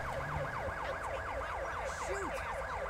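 An ambulance siren in the video game GTA V wails steadily and loudly, with a rapid rising-and-falling sweep repeating throughout and no talk over it.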